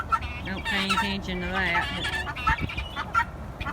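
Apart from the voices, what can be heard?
chickens clucking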